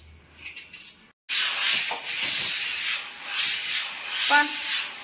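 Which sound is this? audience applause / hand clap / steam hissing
steam hissing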